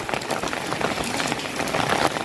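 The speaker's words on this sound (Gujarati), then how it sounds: "હવાના પ્રેશર સાથે વરસાદ છે તે ધોધમાર વસી રહ્યો છે અત્યારે" Heavy monsoon downpour with strong gusting wind in flooded Bodeli streets, a dense, steady roar of rain hissing on surfaces without pause.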